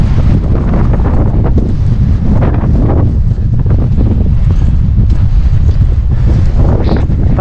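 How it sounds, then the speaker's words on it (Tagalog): Strong gusting wind buffets the microphone on a mountain road between Ilocos Norte and Apayao, producing a loud, continuous low roar that stays steady and dense for the whole stretch with no voices. "Lakas ng hangin, grabe."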